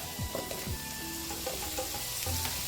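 Garlic fries in a pan while broad beans thokku is cooked, a close, steady sizzle with a few soft stirring scrapes and clinks.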